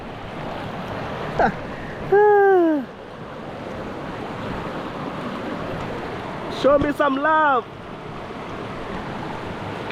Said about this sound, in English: Look how hot it's bubbling, man.